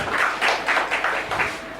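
An audience at an Akashvani Lucknow youth festival quiz claps for the winning team, heard as a brief, fairly loud burst of crowd clapping that swells in quick, slightly rhythmic pulses.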